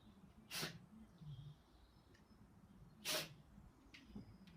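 A dog sneezes twice, short sharp bursts a few seconds apart, close by against quiet outdoor background noise.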